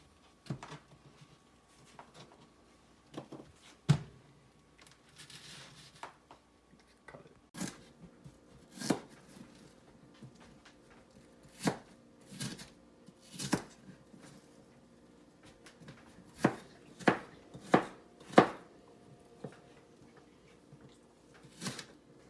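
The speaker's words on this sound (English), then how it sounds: "So we'll get our onions chopped." Onions, about three of them, being chopped with a knife on a board for vegan filling: a run of sharp, separate chops, sparse at first and then quicker and louder in a tight cluster, with no talk.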